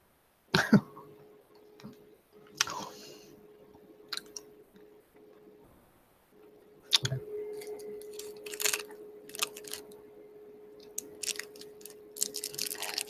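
A few sharp coughs and throat clears close by, scattered between quiet stretches with soft chewing sounds and a faint steady hum.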